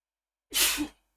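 A single sharp sneeze bursts out close to the microphone, a quick breathy explosion after a moment of silence, with no talking.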